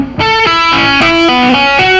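Distorted electric rock guitar plays a tapping pattern on the 3rd and 4th strings, a string of sharply attacked notes in a steady repeating rhythm, loud and close with no talking.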